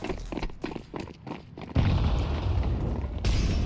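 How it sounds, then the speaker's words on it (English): A flashbang grenade goes off in a Counter-Strike pro match between 3DMAX and G2: scattered footsteps and light movement, then a sudden loud burst that sustains as a dense roar, with a brighter hiss rising near the end. "Gravity has a flashbang for 3D Max."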